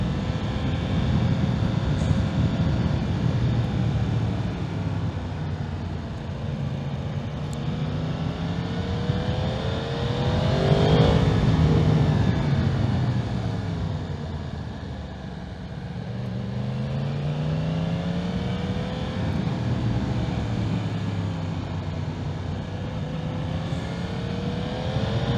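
Yamaha MT-10 SP motorcycle engine accelerating on the road, a loud, continuous roar that rises and falls in repeated sweeping revs, close and steady with no talking.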